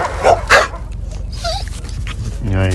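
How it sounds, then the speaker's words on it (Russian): A dog at an animal shelter gives a few short whimpers and yips close by, while someone speaks softly to it in between. "такая нежная собака"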